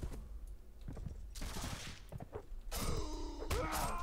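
Musket volleys crack out in the video game Mount & Blade With Fire and Sword, several sharp shots and bursts of massed fire with thuds in between, loud and alone with no talk.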